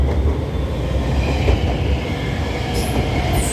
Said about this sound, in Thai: เช้าๆนี่รถไฟฟ้า BTS มาติดๆกันเลยนะครับทุก3นาทีเลยนะฮะ